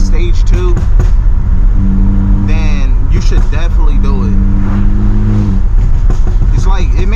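A tuned BMW 328i running a stage 2 Bootmod3 tune revs its engine, the rising and falling drone sitting steadily underneath someone talking throughout.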